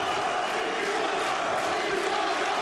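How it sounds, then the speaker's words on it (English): An arena crowd at a GLORY 25 kickboxing superfight at the Palaiper in Italy roars and chants Italia. It is a loud, dense, steady wall of massed voices from start to finish. "the crowd here at the Palaiper with chants of Italia"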